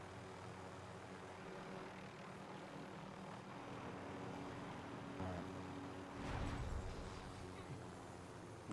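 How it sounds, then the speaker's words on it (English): Helicopter flying in the Call of Duty Warzone game, a steady droning rotor and engine noise running throughout at an even level, with a brief louder thump-like swell near the end. "I'm in a helicopter and going to Lagoon."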